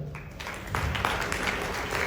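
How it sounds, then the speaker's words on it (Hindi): Audience applause at a network marketing award ceremony on stage, starting thinner and swelling into full, steady clapping after a moment, continuing loud to the end. "आपकी जोरदार तालियों के साथ प्लीज़ वेलकम"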